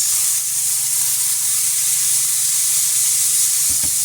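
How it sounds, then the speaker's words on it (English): Tex-Mex burger patties searing in a hot pan give off a steady, close hiss and sizzle that holds evenly throughout, with no voices. "Beautiful sear going at 3 minutes."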